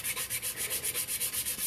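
Hand sanding of a cup using the hanging method produces a quick, even rhythm of raspy rubbing strokes, about eight per second, loud and close with no voices.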